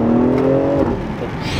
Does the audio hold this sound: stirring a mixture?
no